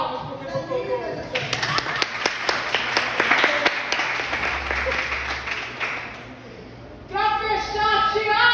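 A church congregation breaks into clapping during a sermon, a dense patter of many hands lasting several seconds, with a preacher's voice over and around it.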